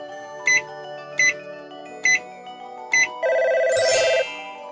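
Phone ringtone in a cartoon elevator-safety game for kids: four short evenly spaced electronic ring bursts, then a longer sustained tone rising into a bright warble, clear and close with no talk.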